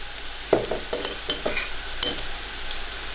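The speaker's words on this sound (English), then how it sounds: "while we are frying the onions, we want to add at least a tablespoon of zira" Onions and cumin frying in oil in a pot while being stirred, with soft sizzling and several distinct scraping stirs and utensil knocks, close and fairly quiet.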